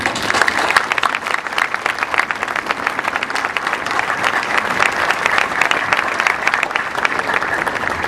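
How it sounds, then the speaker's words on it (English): Loud, sustained applause from the audience at a university graduation commencement, dense crowd clapping holding steady throughout without pause. "let us applaud their achievements"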